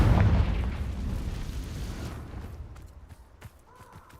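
A Confringo blasting spell going off in a video game: one loud booming explosion at the start that rumbles and slowly fades, with a few small pops and crackles trailing off behind it.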